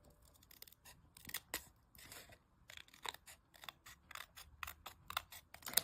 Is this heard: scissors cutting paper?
yes